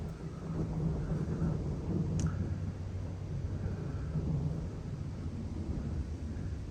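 Low, continuous rumbling thunder rolls from an approaching lightning-filled storm at night, a broad distant roar with no voices.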